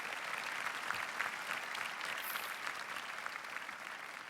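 An audience at a school graduation ceremony in Thiruvalla claps steadily, an even and fairly dense wash of applause heard from a moderate distance without voices.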